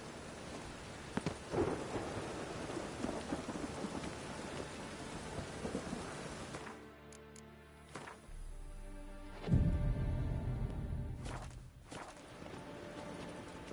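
Rain in The Witcher 3 falls steadily, with rumbles of thunder and footsteps on the wet ground, and a heavier surge near the end.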